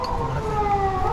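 An ambulance siren sounds continuously at an outdoor high-rise athletics course in the city, a steady wailing tone running through the whole moment with no talk over it.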